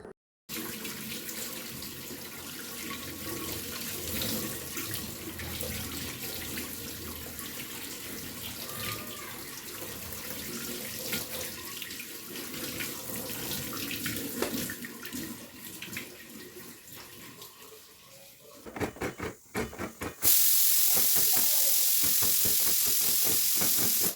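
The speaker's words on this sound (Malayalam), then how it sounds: "ഇതിൻ്റെ ലീഫ് മാത്രം ഒന്ന് കഴുകി ക്ലീൻ ആക്കാം" Tap water runs steadily from a kitchen faucet as drumstick leaves are washed, a continuous hiss with soft splashing that grows louder and brighter near the end.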